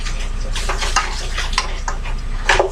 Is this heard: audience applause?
no